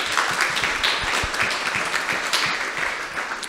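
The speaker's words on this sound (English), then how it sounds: "Please give our panelists a big round of applause." An audience applauds panelists at a talk on psychedelic medicine: a steady, full round of clapping with some individual claps standing out near the front, continuing unbroken for several seconds.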